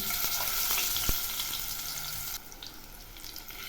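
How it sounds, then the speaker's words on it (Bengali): Loud, close crackling sizzle of boal fish frying in hot mustard oil, briefly peaking with a knock, then settling into a quieter, steady spatter. "তেল গরম হয়েছে, এবার আমি মাছগুলো ছেড়ে দিচ্ছি"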